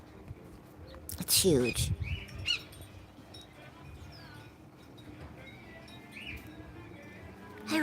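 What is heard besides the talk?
bird calling outdoors in California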